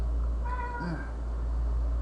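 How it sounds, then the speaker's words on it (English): A cat gives a single drawn-out meow in the background, a short wavering cry over a steady low hum, with no talking. "And the cat cries in the background."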